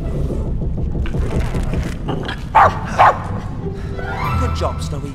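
A cartoon dog barks a few short, sharp yips in a Tintin video game, set inside a ship's hold over mechanical ambience, with speech around the barks.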